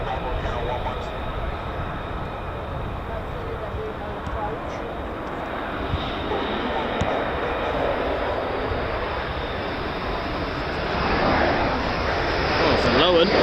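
An F-15 or F-35 fighter jet flying low overhead near RAF Lakenheath, its broad roaring rumble building steadily louder toward the end while people talk nearby.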